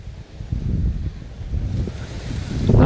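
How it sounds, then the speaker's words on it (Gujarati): Strong wind buffets and rumbles against the microphone in steady gusts on a farm field, growing louder toward the end. "પવન પણ ફૂલ છે"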